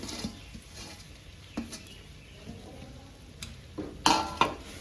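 Chopped jaggery goes into hot ghee in a pan for sesame gachak, giving a faint low sizzle broken by a few sharp clinks and scrapes of stirring and utensils.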